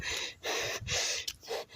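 Heavy, ragged panting from someone who has just run uphill: four loud, close breaths in quick succession, each a harsh rushing gasp with short pauses between, no talking.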